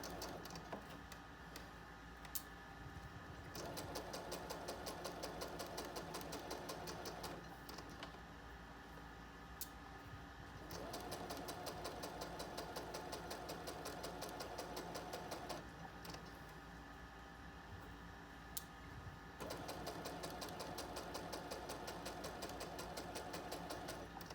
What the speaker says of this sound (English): we're just stitching with a 1/4 inch seam allowance